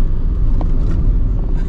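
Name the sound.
BYD Yuan Pro SUV cornering at speed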